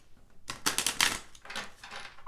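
A deck of tarot cards is shuffled briefly, giving a couple of quick, soft riffling bursts up close.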